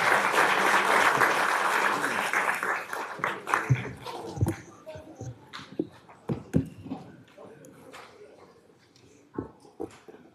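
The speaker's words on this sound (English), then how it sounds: "Ladies and gentlemen, another round of applause for those year service award winners." Applause at a county commission meeting for years-of-service award recipients, fairly full at first, then thinning out into scattered claps, shuffling and murmured voices.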